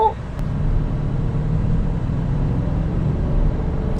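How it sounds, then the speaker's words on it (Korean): Low, steady engine rumble from inside a moving BMW X5 M60i in Sport Plus mode, a subdued exhaust drone at around 3000 rpm with road noise and no talking. "이 잔잔한 배기음이 들리시나요?"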